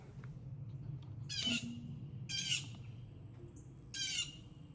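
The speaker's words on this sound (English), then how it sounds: "Very noisy blue jay." A blue jay calls three times, harsh and raspy, each cry spaced about a second apart over a steady low hum.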